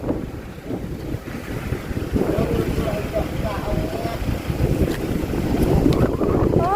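Strong wind blows steadily across an outdoor microphone, rumbling and gusting, growing slightly louder toward the end, with faint voices underneath.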